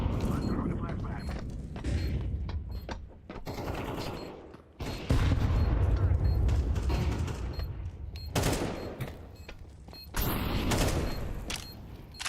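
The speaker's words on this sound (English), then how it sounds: "I'm throwing a flashbang." Gunfire and explosive bursts from a Counter-Strike 2 round, with rapid automatic shots and heavy booms around a flashbang throw, loud and dense throughout, with people talking over it.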